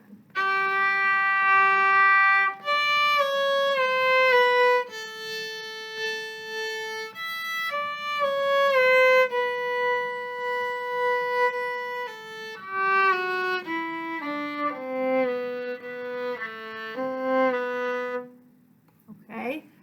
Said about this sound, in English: Let me play the whole variation starting at 21.